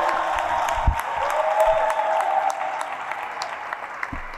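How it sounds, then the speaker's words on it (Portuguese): A solemn session audience applauds a pastor honoured with the Tiradentes Medal, producing steady, moderately loud clapping from a crowd throughout, with a few thumps and faint cheers mixed in. "quem eu peço muitos aplausos"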